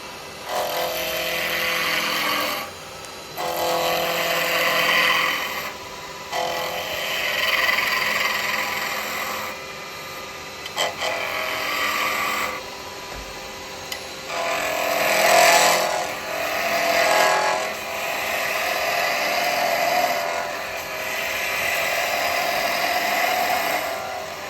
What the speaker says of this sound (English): Gonna rough this down my skew.